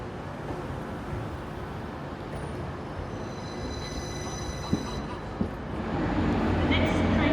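A Class 333 electric train at a station platform on the Leeds to Doncaster line, a steady low rumble and hum with a couple of sharp clunks, the engine growing louder toward the end while a person talks over it.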